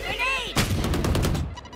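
Gunfire in the shooter game Valorant: a rapid burst of loud, close shots following a short electronic tone, sharp repeated cracks over about a second.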